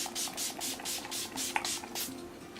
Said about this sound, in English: I'm going to spray my face first with the Urban Decay All Nighter spray